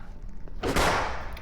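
A single loud burst of gunfire in the Roblox Squid Game video game erupts suddenly and rings out for under a second over faint background noise.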